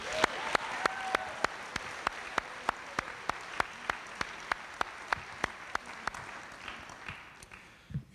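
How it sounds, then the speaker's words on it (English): Sharp, evenly spaced claps, about three per second, sound alone at a high school senior recognition night after the pianist is introduced. They could come from one pair of hands rather than a full audience, and a brief low thump falls near the end. "Please join me in a round of applause for Kristen Denherter"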